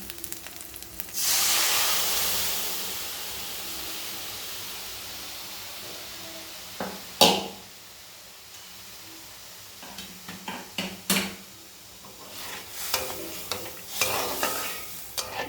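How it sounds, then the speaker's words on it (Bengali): Boiled masoor dal poured into a hot pan of fried ingredients sets off a loud burst of hissing sizzle that slowly fades into a steady simmer, followed by scattered clinks and scrapes of stirring. "এরপরে আমি যে ডালটা সিদ্ধ করে রেখেছিলাম সেটা দিয়ে দেবো।"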